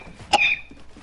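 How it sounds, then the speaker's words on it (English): A single sharp cough from a person, brief and fairly close, followed by quiet background. "He's only coughing."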